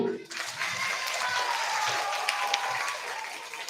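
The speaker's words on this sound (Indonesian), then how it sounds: "Terima kasih, tepuk tangan dulu." A short burst of steady crowd applause, fairly faint and distant, filling the whole moment.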